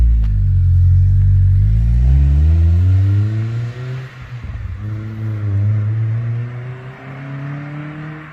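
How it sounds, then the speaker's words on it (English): A car fitted with a Yonaka catback exhaust and a muffler delete revs hard from idle, the raspy exhaust rising and falling through several throttle blips, loud and close with no talking. "That's what it sounds like at rev though."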